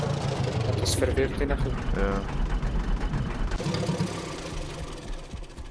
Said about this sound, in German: Ich glaube, ich lasse einfach den Motor laufen.